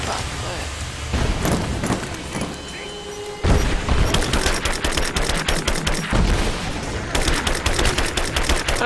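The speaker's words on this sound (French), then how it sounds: "Là, je tire vraiment à l'aveugle." Gunfire from the video game Rise of the Tomb Raider, with loud rapid bursts and booms in dense volleys, some repeating like automatic fire. Other game sounds play underneath, and there may be a voice mixed in.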